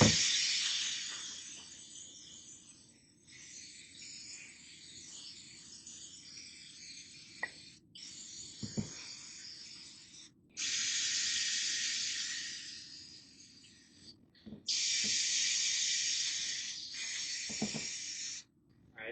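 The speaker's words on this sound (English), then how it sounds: "just go ahead and spray it down with some brake clean" Several long bursts of aerosol brake cleaner hissing, loud and close, sprayed onto the rear differential of a 2003 GMC Sierra, with pauses and faint clanks between them; no talking.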